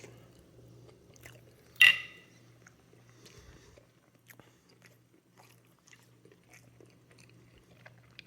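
Someone bites into a soft, tender homemade buttery biscuit close by: one sharp crunchy bite, then quiet soft chewing with faint smacks over a low background hum.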